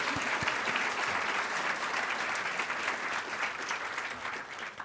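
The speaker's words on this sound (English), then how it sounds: "I really think it's appropriate to give Toyota a good round of applause" An audience at a city state-of-the-city address applauds, a steady wash of clapping from many hands heard at a distance and fairly faint, tapering slightly at the end.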